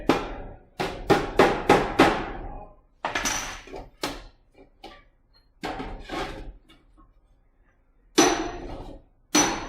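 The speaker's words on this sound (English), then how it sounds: "I will make some small adjustments for this flange after I'm done hammering the Pittsburgh lock" Hammer knocking a Pittsburgh lock seam flush on sheet metal, bright ringing clanks in irregular clusters, a quick run of five hits first and then scattered single and paired blows, close and loud.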